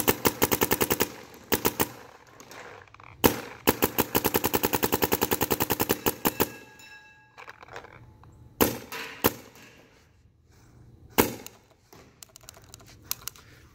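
Clone VXI paintball gun firing indoors, a loud rapid burst of sharp cracking shots, then a pause, then several separate single shots spaced a couple of seconds apart, echoing in the room.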